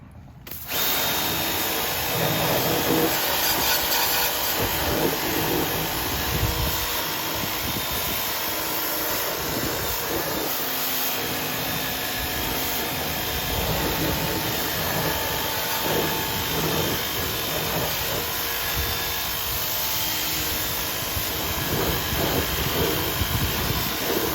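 A DeWalt DCPW550P1 power washer runs on its high setting, giving a loud, steady motorized whine with a spraying hiss that holds continuously for the whole stretch, with no talking.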